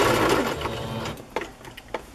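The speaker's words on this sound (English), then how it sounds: "I make sure the very edge of this pink is sewn down." Sewing machine stitching down the edge of pink fabric onto a paper tag in lace-and-fabric journal crafting, a steady whirring run for over a second that then stops, leaving a few faint clicks.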